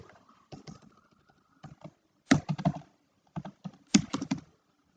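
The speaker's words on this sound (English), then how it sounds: "Now let me type Azure." Typing on a computer keyboard at a desk, with short bursts of soft, close key clicks separated by brief pauses and no talking.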